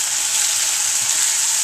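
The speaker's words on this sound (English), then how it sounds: "You got a good amount of sizzle there." Chicken pieces sizzle in hot oil in a frying pan, a dense, bright crackling hiss that holds steady and close for a brief moment with no talking.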